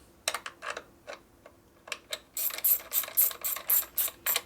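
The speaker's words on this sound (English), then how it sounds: "Then we come down and tighten up these lower screws." A ratchet wrench tightens the lower screws on a 1972 Harley FLH 98ci shovelhead stroker motor, giving a close series of crisp ratcheting clicks in short bursts that speed into a steady, rhythmic clicking run, with no talking.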